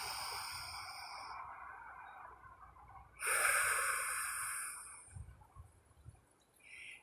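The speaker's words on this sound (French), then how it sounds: "J'inspire." A single slow breath in during a stretching session, a soft airy rush that swells after a quiet stretch of faint breathing and then fades, close and alone.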